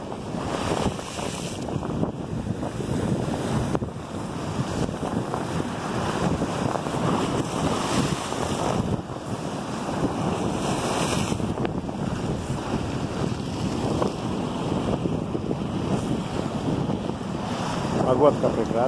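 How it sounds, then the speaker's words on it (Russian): Strong wind buffets the microphone over the steady wash of Sea of Azov waves on a February seafront in Berdyansk, a continuous roar with occasional louder gusts. "Море немного волнуется."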